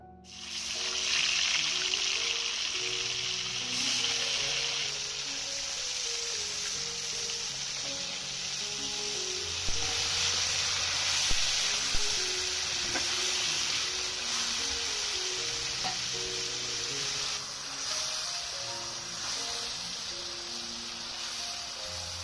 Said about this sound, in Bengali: টেপা মাছটা এবার সুন্দর করে ভেজে নেব।